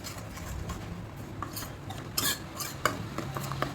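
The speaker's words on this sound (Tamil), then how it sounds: "இதை இப்போ நல்லா கலந்து விட்டுருங்க" Soft scraping and clinking of a spoon stirring egg curry in a pan, close and gentle, with a low background hum and occasional sharper taps.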